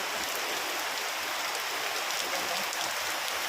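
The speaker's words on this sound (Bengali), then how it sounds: "দেখো বন্ধুরা কত জোরে বৃষ্টি হচ্ছে" Heavy rain pours down onto a veranda in a dense, continuous hiss that stays loud and even from start to finish.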